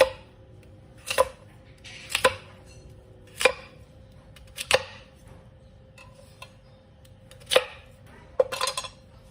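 Sharp knife chops through daikon radish, striking a cutting board one at a time at an uneven pace, clear and close, with a faint steady hum behind them.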